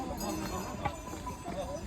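Horse hooves clop softly along the Kedarnath trekking path, crowded with pony riders, in a faint, uneven patter of steps under low background chatter.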